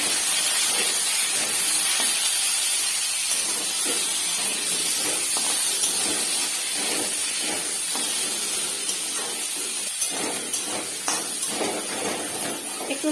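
Boiled taro dropped into oil with frying radhuni seeds, giving a steady loud sizzle and hiss with scattered clatters from stirring, close by.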